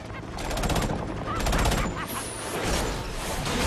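Rapid gunfire bursts ring out on a rooftop in the video game Batman: Arkham Origins, with loud repeated volleys broken by short pauses.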